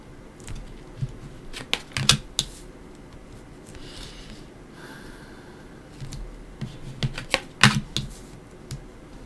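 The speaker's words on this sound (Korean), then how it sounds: "타로 카드 열어볼게요." Tarot cards handled and laid out on a table during a weekly horoscope reading: soft scattered clicks and light taps in small clusters, close and quiet, with no talking.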